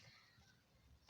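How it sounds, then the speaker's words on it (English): A single sharp cough, loud and close, bursts out at the very end after near silence. "Cover your mouth if you cough."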